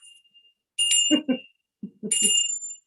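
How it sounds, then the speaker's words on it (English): A small hand bell rung as an 'epiphany bell' on a talk show, two bright ringing bursts separated by a short gap, with people talking between and over the rings. "the epiphany bell"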